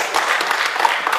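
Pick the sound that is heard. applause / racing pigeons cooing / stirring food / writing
applause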